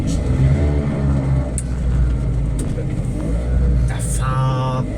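A Piaggio Ape three-wheeler's small engine runs steadily and close by throughout, a low droning rumble that holds even, with voices talking briefly over it.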